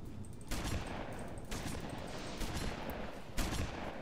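Shotgun-throwing weapon in Halo Reach firing repeatedly, four sharp blasts spaced about a second apart over a dense, rumbling battle din, fairly quiet overall.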